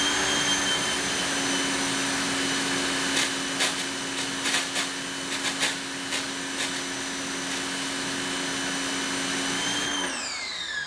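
A Westinghouse EPX3050 electric pressure washer, 2050 psi and 1.76 gpm, runs with a steady loud motor whine and hum, a few faint ticks over it, then spins down near the end; no talk.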